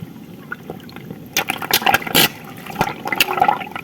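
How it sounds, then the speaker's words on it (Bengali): Rainwater gurgling and sloshing through a drain clogged with leaves, with irregular bursts of bubbling and splashing in the middle and end over a low background wash. "পাতাগুলো আটকে যাচ্ছে আর জল বেরোতে পারছে না এরকম শব্দ হচ্ছে"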